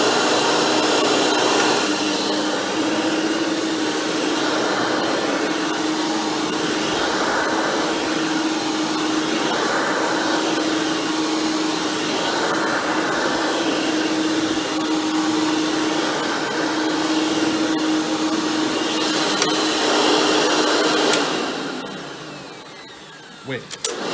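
A rebuilt Hoover Elite vacuum motor with a replaced fan whirs loud and steady for about twenty seconds, then switches off and spins down to near silence.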